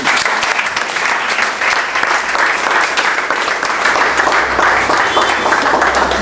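Congregation applauding Jesus at a church service, a loud, dense, steady wash of clapping that holds evenly throughout with no break.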